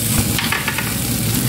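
Tempeh is stirred into sambal frying in a pan, giving a loud continuous sizzle with scraping stirs at a steady pace, and no one speaks.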